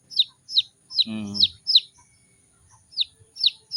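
Six small chicken chicks near their mother hen give repeated short, high peeping chirps in a steady rhythm, with one brief lower rasping call partway through; close and fairly clear, with no talking.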